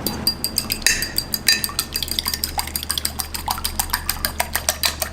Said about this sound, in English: As you beat the eggs, you're really incorporating air, making them nice and fluffy.